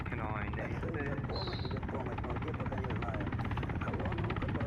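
An Mi-28 attack helicopter in the video game Arma 3 gives a continuous rotor and engine drone throughout, with gunfire-like crackle mixed in and voices talking over it.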